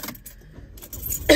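Keys jangle sharply in short bursts near the mic, then a car starts, its engine rising at the very end.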